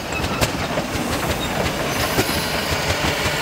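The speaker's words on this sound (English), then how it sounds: "This little Red Devil locomotive was built in 1960 by Andrew Barkley of Kilmarnock, Scotland" A narrow gauge steam locomotive built in 1960 by Andrew Barkley of Kilmarnock, Scotland, rolls along nearby with a steady rhythmic clickety-clack of wheels over rail joints, loud and unbroken, with no voices.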